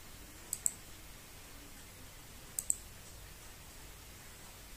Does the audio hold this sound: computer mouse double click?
yes